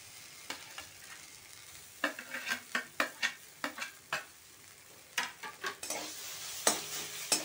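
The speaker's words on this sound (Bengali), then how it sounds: "এবার আলুটা দিয়েও এর সঙ্গে খুব ভালো করে মিশিয়ে নেব।" Grated boiled potato is stirred and fried with spices in a pan, a rhythmic series of spatula scrapes and taps over a quiet sizzle, close and steady with no talking.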